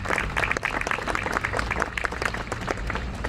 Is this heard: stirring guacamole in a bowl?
no